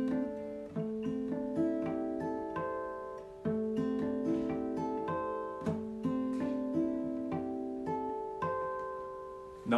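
Guitar harmonics are picked with the thumb and chimed with the index finger, producing a steady flowing run of bell-like ringing notes that are soft and close, with no voices.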